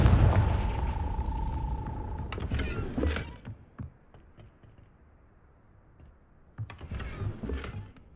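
An explosive Confringo spell goes off in Hogwarts Legacy as a loud booming blast that fades into creaks and scattered debris clatter, followed by a second rumbling burst.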